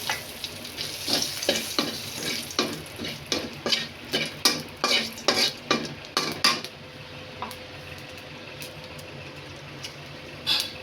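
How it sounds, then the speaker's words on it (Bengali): Whole spices such as bay leaf, cardamom and cinnamon sizzle in mustard oil while a spoon stirs the pan in a quick series of scraping strokes, followed by a softer steady sizzle. "আমি এই তেলের মধ্যে সামান্য একটু সরষের তেল দিয়ে তারপর আমি মশলাটা সম্বার দিই।"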